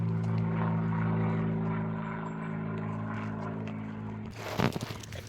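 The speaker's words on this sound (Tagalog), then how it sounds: "it's a plane" A steady, droning engine hum, like a propeller plane passing overhead, fades slightly, then a close rustling burst.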